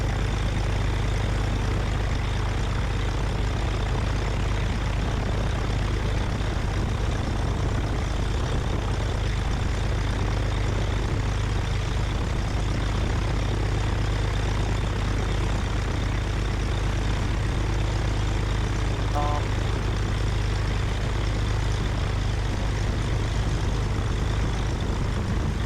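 Small propeller airplane idling on a taxiway, a steady low droning engine hum with constant rumble, near and unbroken throughout, with no voices.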